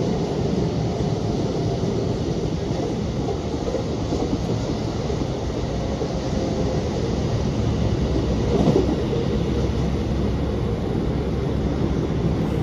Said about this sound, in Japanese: 321系とホームを猛スピードで通過していきます